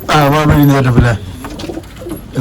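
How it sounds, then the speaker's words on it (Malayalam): King breed pigeons in a loft give a loud, rolling coo up close for about a second, then softer murmuring, with a voice partly mixed in. "ഇത് കിങ്ങില് പെട്ട പ്രാവാണ് കേട്ടോ"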